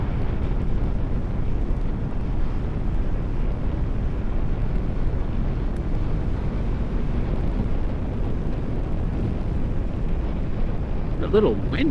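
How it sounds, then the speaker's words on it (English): Steady outdoor wind roars and buffets the microphone while riding a motorcycle ahead of a storm, a constant low rumble throughout with a faint voice near the end. "A little wind too."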